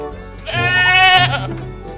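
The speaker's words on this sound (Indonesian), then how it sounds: "Ternyata ini seekor kambing." A single drawn-out goat bleat, loud and close, wavering for about a second over a quiet background.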